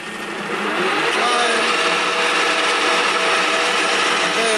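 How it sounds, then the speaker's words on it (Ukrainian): A power tool sanding brake caliper guide pins during a front brake pad job on a Lincoln Nautilus gives a continuous loud, close whirring grind that ramps up over the first second, then holds steady without pause. "Так, зараз будемо шліфувати направляючі."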